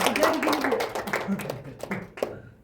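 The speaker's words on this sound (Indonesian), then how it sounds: "Tepuk tangan untuk kita semua." A small classroom group claps briefly during a microteaching lesson: a short burst of scattered hand claps mixed with voices, fading out after a couple of seconds.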